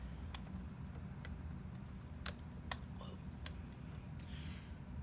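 Light, sharp taps on calculator keys, several isolated presses spaced irregularly over a steady low background hum, close and quiet.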